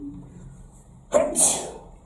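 A single sharp sneeze, a quick intake bursting into a hissing release, close up during an Islamic lesson on prayer, with a faint murmur of room tone before it.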